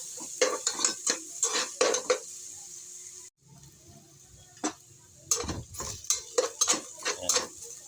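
Ginger sautéing in a pot for chicken tinola, with repeated sharp stirring scrapes and utensil clicks in quick bursts, a brief pause midway, over a faint sizzle.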